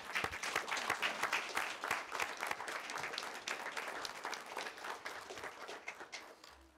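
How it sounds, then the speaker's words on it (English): An audience at a tribal council meeting applauds a veteran, a full burst of many hands clapping that peaks early, then gradually fades over several seconds. "His name is Thomas Tadpole. Let's give him a round of applause."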